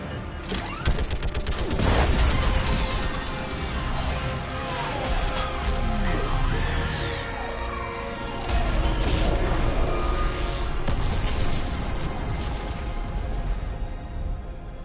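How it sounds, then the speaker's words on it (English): Mass Effect 3 orbital strike slamming into its target: heavy crashing impacts and rumbling booms layered with whooshing debris and scattered gunfire, loud and sustained over about fifteen seconds with two swelling peaks. "I need an orbital strike. We're clear. Fire at will."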